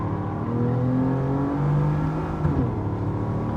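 In Gran Turismo 7, a heavy car's engine revs steadily, a sustained droning whir that climbs in pitch and then settles, loud and continuous with no voices over it.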